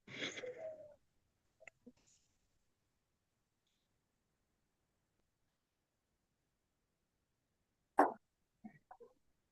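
A person demonstrates deliberate breathing during a spiritual question-and-answer talk: a close, fairly loud breath with a slight wheezy tone opens the clip, then long near-silence broken by faint clicks, and a sharp, brief second breath with small mouth noises near the end.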